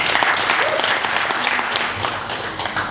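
An audience at a Partai Buruh labour party rally applauds, steady dense clapping filling the whole stretch at close range, with crowd noise mixed in.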